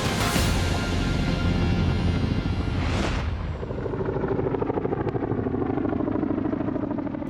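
A Chinook helicopter flies with an Apache escort toward Sangin in Helmand province, Afghanistan: a loud, steady rotor and engine roar fills the whole stretch, with a brief swelling whoosh partway through and no talk.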